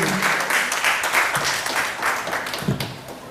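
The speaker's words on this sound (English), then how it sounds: "Please, let's give a round of applause for Fiona Lima." Audience applause at a talk on child abuse prevention, many hands clapping together in a steady, moderately loud wash that carries through the whole stretch with no speech over it.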